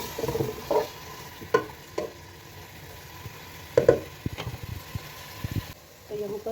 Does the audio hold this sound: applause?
no